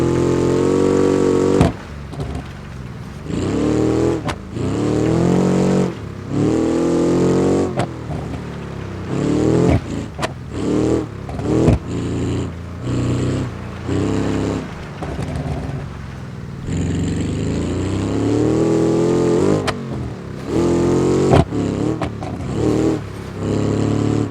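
An off-road vehicle engine in a Baja racing game revving repeatedly, loud and close, climbing and falling in pitch through sustained throttle runs with abrupt cuts and gear changes.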